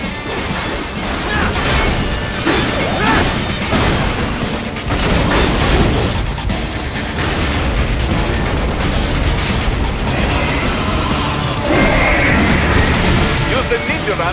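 A plasma cannon in Metal Gear Rising: Revengeance fires loudly amid crashing booms and bursts, with a dense soundtrack and voices mixed in.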